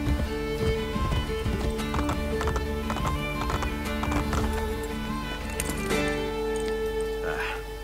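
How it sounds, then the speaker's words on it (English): Horse hooves gallop in the video game Assassin's Creed Brotherhood, a fast, steady clip-clop of several horses running close by, with a whinny and voices mixed in. "I can no longer keep up with the horses."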